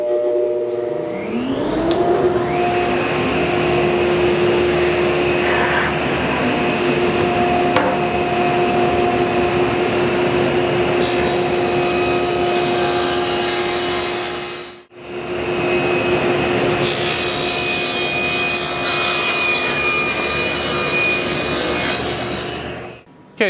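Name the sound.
saw ripping wood boards to final width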